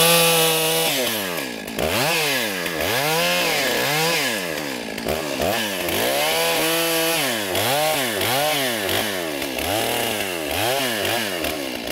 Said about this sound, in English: I'm gonna shut the saw off